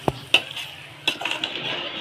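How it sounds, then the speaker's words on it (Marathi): Marinated chicken with biryani masala stir-fried in a pan, with a few sharp spatula scrapes and clinks against the metal over a soft, steady sizzle. "पण हे चिकन मस्त परतून घेऊया."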